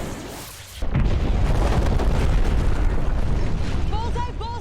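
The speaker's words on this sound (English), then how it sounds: "Bombs away, bombs away!" Bombs explode in Top Gun: Maverick as a loud, sustained rumbling blast that kicks in abruptly after a short lull and roars on for several seconds, with voices and a high whining tone near the end.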